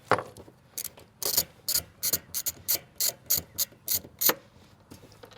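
A size 10 socket on a ratchet wrench clicks in short bursts while backing bolts out of a storage box mounted in a Kawasaki KRX 1000 bed, about a dozen crisp, close ratcheting rattles separated by brief pauses.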